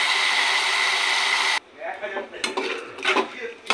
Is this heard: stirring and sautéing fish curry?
yes